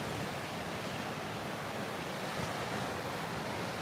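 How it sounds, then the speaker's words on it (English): Ocean surf breaks on a beach in a continuous, loud wash of rushing water and wind noise, steady and close, with no voices. "Look at these waves."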